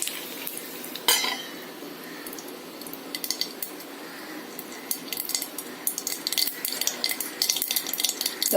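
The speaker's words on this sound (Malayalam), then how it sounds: "കടുക് വറുത്തിടാനായിട്ട് എണ്ണ ചൂടാക്കിയിട്ടുണ്ട്" Mustard seeds crackle and pop in hot oil for sambar tempering, with sharp irregular spits and bursts over a soft sizzle and the clink of a pan, growing busier toward the end.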